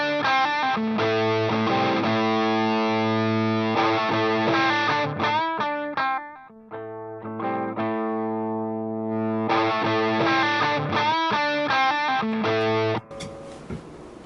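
Electric guitar played through a Dumble-style overdrive pedal, ringing sustained chords and riffs with thick harmonic distortion, a brief quieter stretch in the middle, then the chords return before cutting off into a short burst of noise.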